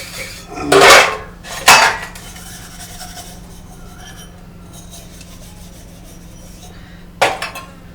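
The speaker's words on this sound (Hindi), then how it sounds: "इतने बर्तन" Dishes being washed clatter and scrape in a few sharp, close bursts of metal and ceramic knocking, with quiet gaps between them.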